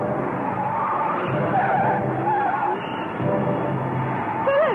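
Tires squeal and skid as a car slides out of control on a road in an old film scene, the screech wavering continuously over a rumbling engine, with a brief voice buried in the mix.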